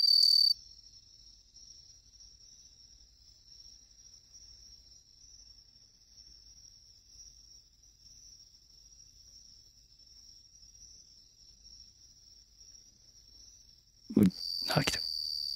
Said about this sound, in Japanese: スズムシすごい回る